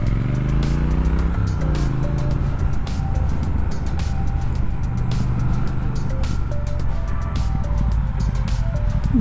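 A Triumph Speed Twin motorcycle rides along the Pacific Coast Highway, its engine droning loud and steady throughout with rising and falling revs over constant wind rush.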